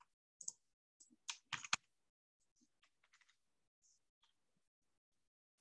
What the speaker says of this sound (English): to see if the keyboard works